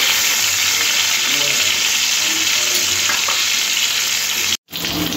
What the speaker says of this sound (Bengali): ভালো করে নুন আর হলুদ মাখিয়ে তেলের মধ্যে দিয়ে 2 পিস লাল লাল করে ভেজে নিতে হবে।